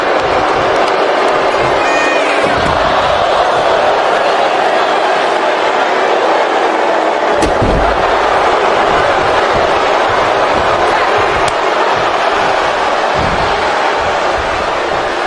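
A live crowd at a tag team championship wrestling match roars and cheers continuously, loud and dense throughout, with a sharp slam from the ring partway and an announcer's voice talking over the noise.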